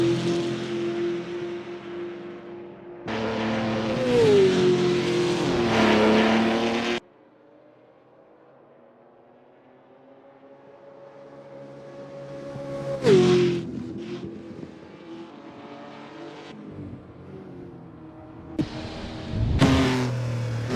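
A historic race car engine circles the track in Assetto Corsa, alternating loud full-throttle bursts and gear changes with quieter stretches of steady droning, rising and cutting off sharply several times, with no voices.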